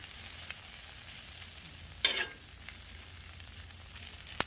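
Peppers and onions fry on a 36-inch outdoor flat top griddle, giving a low, steady sizzle with a brief louder burst of crackle midway and a few faint clicks, with no talking.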